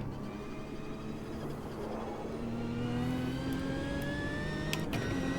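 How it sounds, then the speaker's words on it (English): A sprint car engine drones steadily in the Automobilista 2 racing game, its pitch climbing smoothly as it accelerates, with no voices over it. "The sound of this car is so nice."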